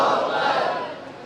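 A large crowd at a Quran celebration gathering roars the Nara-e-Takbeer slogan response in unison, a loud sustained mass shout that fades slightly toward the end.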